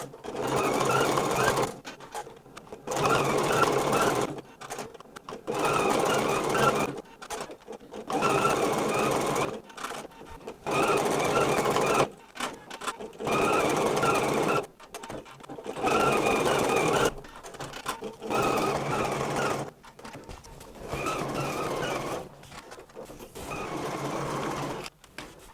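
A sewing machine runs in repeated bursts of steady, loud stitching with short pauses between them, working on a sparkly tote bag, with no voice over the mechanical whir.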